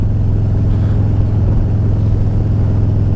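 A Harley-Davidson Road Glide Special V-twin fitted with a Star 30/30 racing cam idles loudly and close by, a deep, steady lumpy rumble that holds without a rev change.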